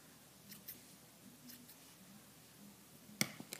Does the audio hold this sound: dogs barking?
no